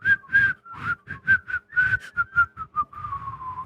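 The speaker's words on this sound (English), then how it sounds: "I can only do the I can't like suck-in whistle on demand" A person whistles a quick melodic tune alone, a run of short clear notes in a steady rhythm that ends on one longer held tone, close and fairly loud.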